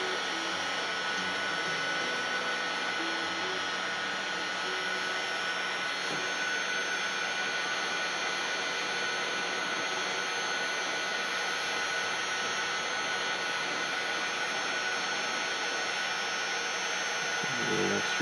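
A heat gun blows continuously while shrinking covering tape on the tail of an Ultracub model plane, a steady close airy whine with a faint tonal hum, unbroken and alone.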